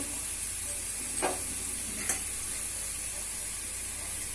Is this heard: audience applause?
no